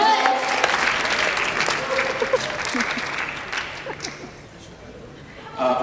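An audience at a Taste of Asia event claps and cheers steadily, the applause mixed with scattered laughter and chatter before fading toward the end.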